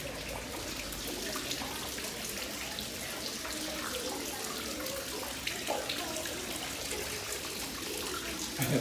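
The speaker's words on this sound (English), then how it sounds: "There's water coming out of the walls." Water seeping and trickling from the walls of a canal tunnel in Marple, a continuous splashy dribble with echoing drips, steady and close with a few louder splashes.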